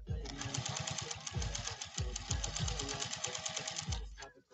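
Vintage 1940 Singer 201-2 sewing machine stitching leather at near full stitch length, making a steady, fast mechanical clatter with regular rhythmic thumps from the needle, loud and close. A voice is heard faintly underneath.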